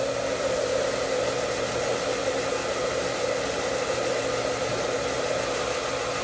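A hair dryer on a warm setting blows a steady, loud whoosh of hot air while hair is being styled for volume, with a constant motor hum and no pauses.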